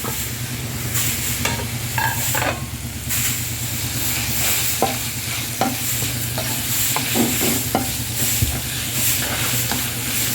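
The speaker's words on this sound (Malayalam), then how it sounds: "പൊരിച്ച് വെച്ച ചെമ്മീനെ അതിലിട്ടിട്ട് നല്ല അടിപൊളിയാക്കി ഒന്ന് ഫ്രൈ ചെയ്യുക." Prawns frying in a pan of spiced masala with salt, turmeric, pepper, coriander and kasuri methi, a loud continuous sizzle and hiss broken by repeated scraping stirs, close up.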